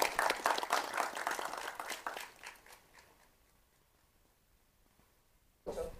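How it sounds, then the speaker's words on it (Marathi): Audience applause at a trailer launch for the Marathi film Ata Thambaycha: loud, dense clapping for about three seconds that thins and fades to near silence, then a short burst of sound at the very end. "एकदा जोरदार टाळ्या त्यांच्यासाठी वाजवूया."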